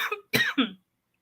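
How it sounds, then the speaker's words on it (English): A few sharp coughs, close and fairly loud, in a quick burst of three, followed by silence. "And now I've got a coughing fit going on."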